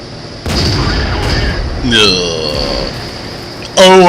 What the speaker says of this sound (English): Oh, artillery got a good old hit on him.